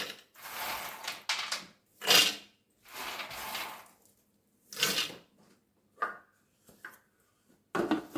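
A blender grinds roasted almonds for Moroccan sellou in short, loud pulses of gritty whirring separated by silent gaps, with a few lighter mechanical clicks near the end.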